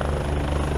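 A Defiant high-speed military helicopter gives off a loud, steady rotor and engine drone with a low pulsing throb, heard alone in a brief burst.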